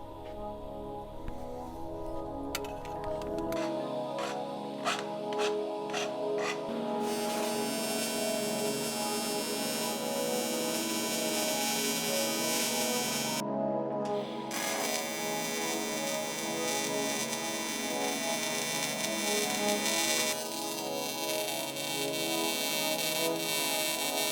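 Welding on an aluminium-style boost pipe for a Nissan Skyline R32 GT-R gives a steady electric buzz and hum with a crackling edge. It runs without a break, with a brief cut-out partway through, and no one speaks over it.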